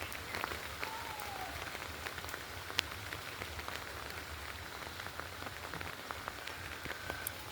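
Rain keeps falling steadily on an all-day wet morning, an unbroken crackling patter of drops on nearby surfaces with a low wind rumble beneath and one brief louder tap, without any talking.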